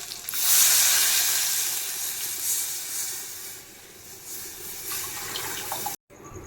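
Kadhi is poured into a hot tempering of spices and garlic, setting off a loud hissing sizzle with watery splashing that swells at once, then settles into a steady fizz for several seconds before cutting off.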